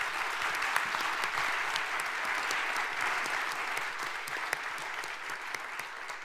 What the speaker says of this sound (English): that applause was for what you said